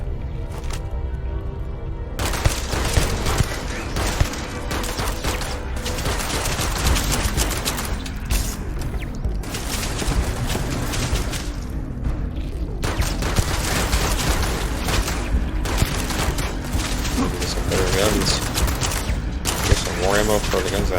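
Sustained automatic turret gunfire from the Starfield video game hammers on for the whole stretch, dense bursts of rapid shots with brief gaps and mechanical clatter, loud and close, with a voice speaking now and then beneath it.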